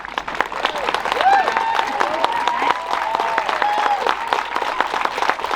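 An audience at a school leavers' event for the class of 2021 claps steadily, a busy broadband patter with crowd murmur and some voices or music tones running underneath.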